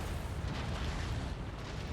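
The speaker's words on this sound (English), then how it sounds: "A missile." A missile explosion in the mech combat game Mechwarrior 5: Mercenaries, a quiet, steady low rumbling roar that fills the whole moment without a distinct sharp onset.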